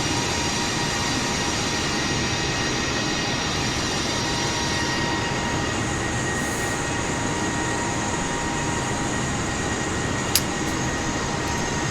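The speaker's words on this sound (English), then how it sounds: "cleared for takeoff runway 25 right" Airbus A320neo jet engines in Microsoft Flight Simulator produce a steady, loud broadband roar with a constant whine, holding level throughout the takeoff run with no talk.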